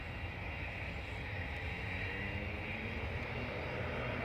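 An ATR turboprop airliner at Dublin Airport: a steady, broad engine roar that holds at a constant moderate level throughout, heard from some distance with no talk.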